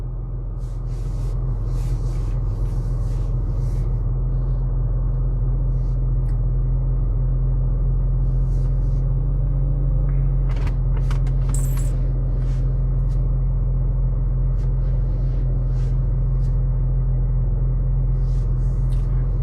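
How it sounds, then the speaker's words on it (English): A 2007 BMW X5 E70 engine idling, a deep steady low rumble that holds constant throughout, with faint intermittent clicks and small mechanical noises on top, recorded close by. "The car is running."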